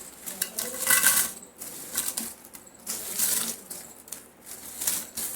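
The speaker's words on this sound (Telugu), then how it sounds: "ఇప్పుడు ఎండుమిరపకాయలు వేయించుకుందాం." Dried red chillies are dry-roasted in a pan for a fenugreek and curry leaf spice powder, giving an uneven crackling, rattling scrape as they are stirred, rising and falling in loudness without talk.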